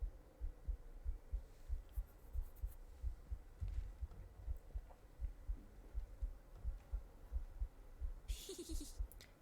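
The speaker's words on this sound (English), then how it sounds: "That's like a thump thump in the game. That sounds like a heartbeat." A slow, regular heartbeat thumps in the video game The Excavation of Hob's Barrow, low muffled double beats repeating over a faint hum, with a brief bright sound near the end.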